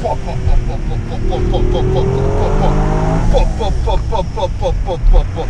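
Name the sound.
Toyota GR Yaris accelerating hard in second gear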